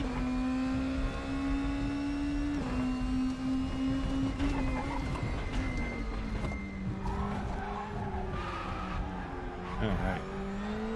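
Throaty engine of a 2020 DTM race car in the RaceRoom racing game, droning steadily under load as it shifts pitch through long winding corners, with tyre noise and a voice talking over it.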